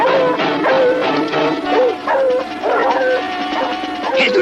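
Several dogs bark and yip excitedly in a continuous, loud flurry of overlapping barks and whimpers close by, outdoors at night.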